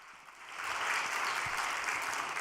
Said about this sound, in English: Let us offer a welcoming great round of applause.